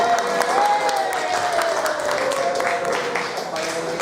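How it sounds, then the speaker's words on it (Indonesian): Audience applause for a speaker at a teachers' in-house training motivation session, a steady wash of many hands clapping at moderate loudness for about four seconds, with a faint tone and murmur running underneath. "Tepuk tangan dulu buat Bapak."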